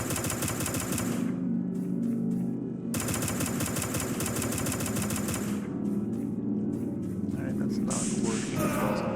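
Gunfire in the game Vomitoreum comes in rapid, dense machine-gun bursts, loud and near, broken by short pauses and single shots, with someone talking over it.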